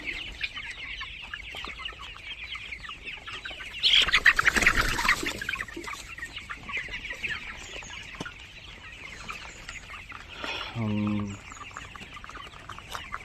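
A flock of 37-day-old tiger chickens clucks and chatters softly in a farmyard amid steady background noise, with a brief louder burst of flapping or squawking partway through.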